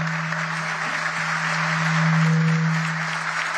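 Studio audience applauding on an Argentine TV programme, a steady wash of clapping lasting the whole stretch with a constant low hum underneath and no voices over it.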